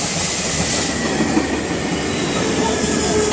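A Metro North train rolls through Tarrytown station on the Hudson Line with a loud, steady rumble, wheel clatter and faint squeal, heard up close from the platform.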